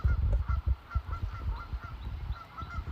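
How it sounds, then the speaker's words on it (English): Geese honking outdoors near a river at dusk, a steady run of repeated nasal honks from several birds at middle distance, over a low background rumble. "some geese making noise"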